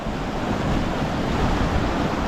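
Floodwater rushes past under a bridge along a swollen river, a steady, dense roar that stays loud and unbroken throughout.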